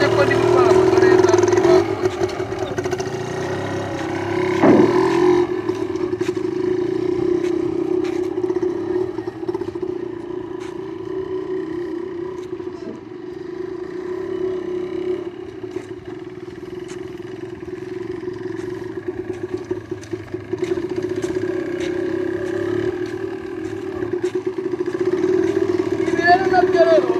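A motorcycle is ridden slowly and smoothly, its engine humming at a steady low pitch throughout, mostly beneath someone talking close to the microphone.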